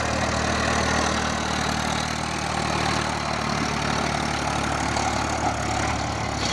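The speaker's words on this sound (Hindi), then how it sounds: "ये ट्रैक्टर कितना बढ़िया चल रहा है" A Massey Ferguson 1035 DI 40 HP tractor engine runs at a steady idle, close and loud, with a continuous even diesel rumble and no talk.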